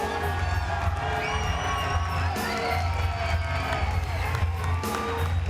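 A wrestling arena crowd at TNA Sacrifice 2005 roars and cheers continuously for AJ Styles and Samoa Joe, with scattered whoops and shouts rising above a loud, dense din.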